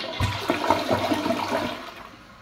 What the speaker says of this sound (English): Let's take a look at a flush.